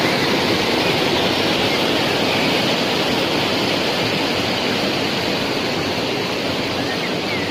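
The Roro Kuning waterfall roars as a dense, steady rush of falling water, loud and unbroken across the whole span, with no voices standing out.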